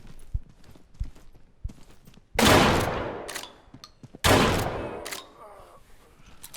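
Shotgun blasts in the video game Deadside, two loud close booms a couple of seconds apart, each with a long ringing tail, between quieter clicks and footsteps, with no talking.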